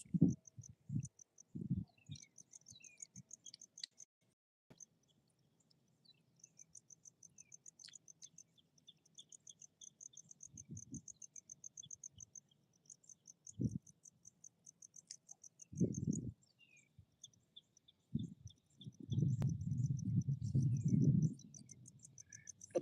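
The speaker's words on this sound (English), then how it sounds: "bugs are starting to come out now." Crickets and other insects chirping steadily at night in an outdoor fishing spot, a thin high pulsing trill running throughout, interrupted by intermittent low thumps and rumbling handling noise close by.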